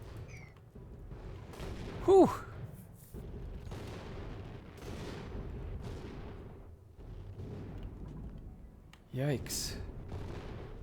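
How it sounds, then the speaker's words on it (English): Big explosions boom in a video game, two heavy distant blasts rumbling over a low background, while a voice briefly exclaims in between. "Ooh, that sounds like some big explosions."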